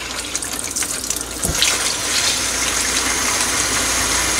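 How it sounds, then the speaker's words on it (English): Cold tap water gushes steadily into a bowl for a brine, a close, even rushing sound with no talk. "I'm just going to throw some water in here."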